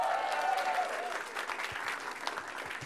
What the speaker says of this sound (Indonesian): Tepuk tangan buat Cuy Purwanto.